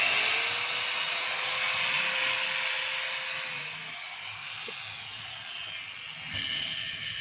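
A DeWalt DW810 4-inch angle grinder, just repaired after a failed field coil, spins up with a steady high-pitched whine that holds close and loud, then slowly eases down toward the end with a brief bump near the finish.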